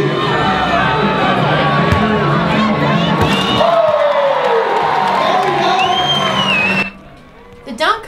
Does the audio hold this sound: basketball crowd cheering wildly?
yes